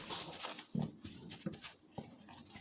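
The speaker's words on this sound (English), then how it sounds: "And that noise is not me. It's my dog." A pet dog makes a few short, nasal grunting noises at moderate distance, separate bursts spread over a couple of seconds in an otherwise quiet room.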